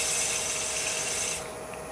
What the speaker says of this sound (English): Wet sanding is one way.